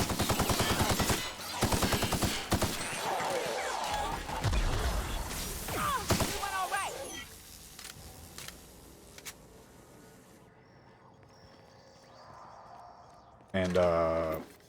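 Loud rapid gunfire bursts from The Outer Worlds video game fill the first half, followed by quieter scattered shots and game sounds, with a brief loud burst near the end.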